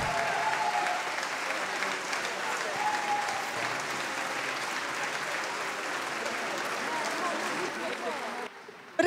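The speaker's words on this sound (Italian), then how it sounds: "Lorenzo, un altro applauso" Audience applause at an outdoor concert at Castello di Trani, a sustained wash of clapping and crowd noise that ends abruptly near the close.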